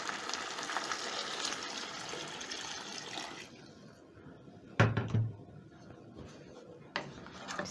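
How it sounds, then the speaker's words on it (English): Water is poured into a pot of Kenyan arrowroot stew, with a brief splash and clatter near the middle and a smaller knock toward the end, following a stretch of quieter broadband kitchen noise. "Once everything is combined, I'm going to add in water."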